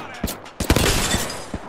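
Video game gunfire comes as sharp bursts of shots, a few isolated cracks, then a rapid volley of close, loud rounds with scattered single shots after.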